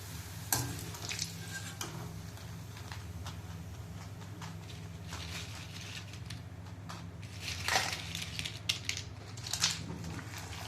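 Homemade potato wafers frying in hot oil, a steady low bubbling sizzle running throughout with occasional louder crackles and stirring scrapes.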